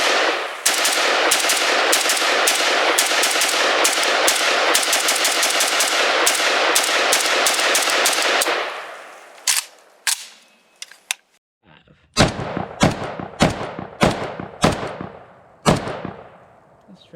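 Rapid bursts of 5.56 AK-pattern rifle fire from an Arsenal SAM5 and FB Beryl M1, loud and sustained for several seconds, then thinning into spaced single shots and short strings.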